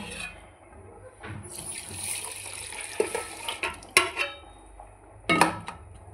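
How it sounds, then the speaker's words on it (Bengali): Water is poured over rice in a pot in a home kitchen, set to soak before cooking mutton biryani: a soft running splash with a few sharp clinks of metal and utensils, close and moderately loud, with no talking. "বন্ধুরা, এটা আমি চালটাকে এবারে জলে ভিজিয়ে দেব।"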